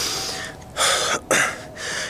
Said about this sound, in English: See, I'm out of breath.